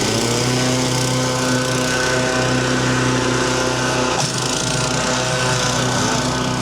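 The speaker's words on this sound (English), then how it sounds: "Abraham, he's going to do the power rake." A power rake dethatches a lawn during a spring cleanup after a snowstorm, its small engine droning loud and steady up close, with a slight dip partway through.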